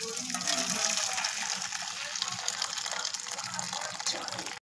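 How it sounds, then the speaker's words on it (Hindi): Water pours and gushes steadily as parboiled rice for a chicken and vegetable pulao is drained of its cooking water, a loud continuous splashing rush with no talk over it. "हम इसको पसा लेंगे, यानी कि हम इसका पानी सारा ड्रेन कर देंगे"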